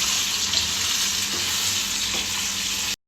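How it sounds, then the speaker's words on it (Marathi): Paneer cubes fry in hot oil in a pot while preparing a vegetable biryani, giving a dense, even sizzle and crackle heard up close for about three seconds, with no voices. "पनीर घेतोय थोडंसं तेलामध्ये तळून, थोडंसं ब्राऊन होईपर्यंत"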